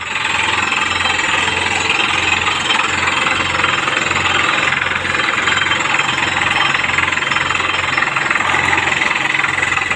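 A water well drilling rig runs loudly and continuously in Buriram Province, Thailand, its engine pounding with a rhythmic, knocking thud and heavy vibration.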